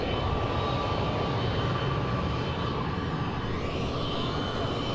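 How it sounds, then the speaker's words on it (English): A passenger jet airplane on the ground just after landing, a loud steady engine roar and whine that holds constant throughout with no voices over it. "Flight 8897 has just landed."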